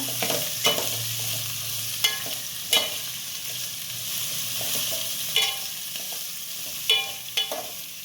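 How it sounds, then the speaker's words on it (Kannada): Chayote chitranna mixture frying in a pan, a steady close sizzle broken every couple of seconds by sharp scrapes and clicks of a spoon stirring, with no voices. "ನೋಡಿ ಈ ಥರ ಒಂದು ಐದು ನಿಮಿಷ ಫ್ರೈ ಮಾಡ್ಕೊಬೇಕು"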